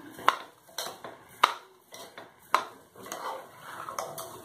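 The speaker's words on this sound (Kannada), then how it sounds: "ಇವಾಗ ಇದನ್ನು ಕೂಡ ಚೆನ್ನಾಗಿ ಕೈಯಾಡಿಸೋಣ" Rice and vegetable khichdi stirred in a pot with a metal spoon, sharp clanks of the utensil against the pot at roughly one-second intervals, with softer scraping in between, close and fairly quiet.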